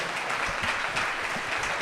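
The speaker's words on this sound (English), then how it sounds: "please give a big round of applause for our man, Destiny" Audience applause at a live event, a steady dense wash of clapping filling the room without break, fairly loud and close.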